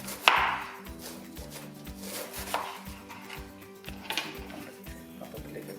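A knife chops cabbage on a board for a fresh salad, giving a run of regular, close, crisp knocks that keep a steady rhythm over several seconds.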